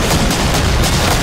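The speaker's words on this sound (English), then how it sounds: "And blowing up a train!" A train blows up in the Medal of Honor Allied Assault video game: a dense, loud, continuous roar of explosive rumble and crackle fills the whole moment with no pauses.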